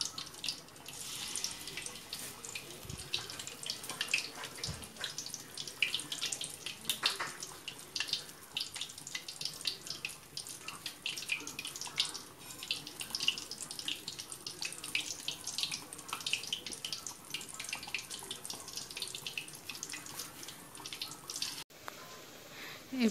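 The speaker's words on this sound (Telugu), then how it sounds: "ఇప్పుడు మీరు వీడియోలో చూస్తున్నట్టు అవి ఫ్రై అవుతున్న గారెలు" Palmyra fruit garelu (tati garelu) frying in hot oil give off a steady, dense crackling sizzle that runs unbroken at an even level, with no voices over it.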